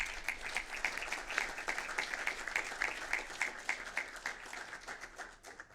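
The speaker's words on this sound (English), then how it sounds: "Let's give them a round of applause." Steady, fairly faint audience applause at a city council meeting, a continuous patter of many hands clapping with no talk over it.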